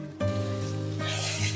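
Eggplant frying in oil in a pan, a steady close sizzle that swells after a brief quieter start and keeps hissing continuously.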